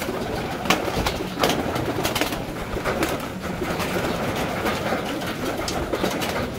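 Pigeons coo in a loft with Grizzle racing birds, soft repeated coos over constant fluttering and rustling, plus sharp wing claps and scratchy noises close by.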